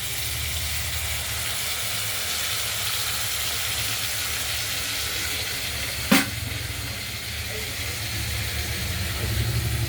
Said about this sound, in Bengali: এই মশলাটাকে আমরা কষিয়ে নিচ্ছি আলু ভাজাগুলোর সঙ্গে।